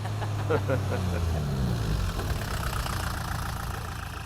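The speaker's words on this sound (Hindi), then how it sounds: "ट्रैक्टर लेकर ऊपर ही खड़े हैं" A tractor engine idles with a low, steady rumble and a faint rhythmic knock, while voices talk over it throughout.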